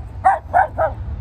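A dog barks three times in quick succession, nearby and fairly loud, against a low background hum.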